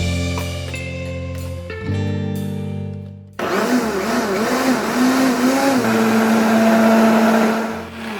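A kitchen blender runs loud and steady, whirring as it purees hot tomatoes into a smooth sauce, with a start-up whine and a shift in pitch partway through as the motor works on the load.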